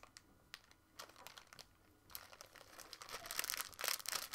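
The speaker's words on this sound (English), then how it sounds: "I'm not very good at opening packets." Plastic packet with a rip strip and resealable closure being pulled open by hand, bursts of crinkling and tearing that grow louder and denser toward the end, close up with no talk.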